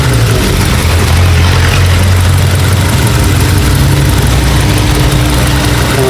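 A 2025 Suzuki Jimny idles steadily close by, its engine holding a smooth, even low rumble with a faint mechanical hum over the full stretch and no revving.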